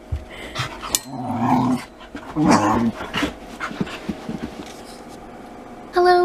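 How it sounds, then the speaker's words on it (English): An unhappy dog that wants to be let out growls and whimpers close by, in two louder bursts of throaty growl-whines followed by softer whines and pants, alone in a quiet room. "This is the face of an unhappy dog who wants out."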